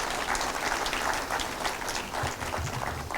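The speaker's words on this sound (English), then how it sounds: "So give ourselves a round of applause." A room full of people applauds at the opening of an RCMRD gathering, a dense, steady wash of clapping that holds loud and even from start to finish.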